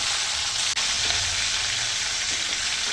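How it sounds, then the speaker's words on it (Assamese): Continuous crackling sizzle of catla fish frying in hot oil in a kadai, fairly loud and even throughout, with a brief dip near the start. "আৰু একেখন কেৰাহী একেটা তেলতে মই মাছখিনি ফ্ৰাই কৰি ল'ম"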